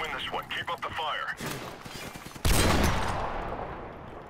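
Bursts of rapid gunfire from a shooting video game, starting beneath a voice, then growing louder and denser with a heavy sustained volley near the end.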